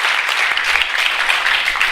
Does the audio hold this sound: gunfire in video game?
no